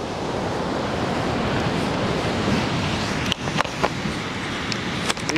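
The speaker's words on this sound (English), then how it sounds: "But the heaviest surf I've seen so far, there actually are surfers here" Heavy ocean surf roars steadily on the beach at Marina, California, a dense continuous wash of breaking waves with a few sharp wind knocks on the microphone near the end.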